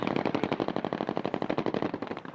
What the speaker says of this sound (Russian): Для отвлечения внимания террористов произведены отвлекающие взрывы и стрельба